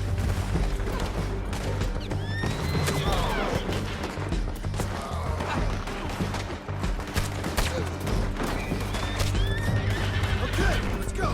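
Horses neigh and whinny repeatedly over fast, busy hoofbeats during a chaotic gunfight in Red Dead Redemption 2, with gunshots and crashes mixed in and shouting voices throughout.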